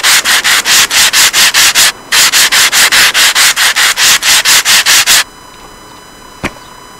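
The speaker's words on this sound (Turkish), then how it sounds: "Sağlı sollu zımpara atıyoruz." Loud, rhythmic back-and-forth rasping of sanding wood in the Train Station Renovation game, with about twenty even strokes and one short gap, then quiet with a faint click.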